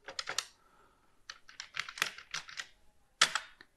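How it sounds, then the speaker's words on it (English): Close, clacky keystrokes on a TRS-80 Color Computer (CoCo 1) keyboard under repair, irregular bursts of quick presses with short pauses between them. "I can test the keyboard, though. Keyboard is working. Got a couple duplicate presses there."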